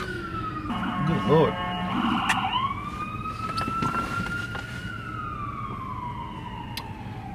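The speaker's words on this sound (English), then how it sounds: "there's a lot of sirens here in Christiansburg and Blacksburg" Emergency sirens wail nearby in Christiansburg, Virginia, one rising and falling quickly while another sweeps in long slides, over wind noise, with a brief spoken exclamation.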